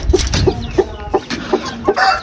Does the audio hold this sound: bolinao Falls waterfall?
no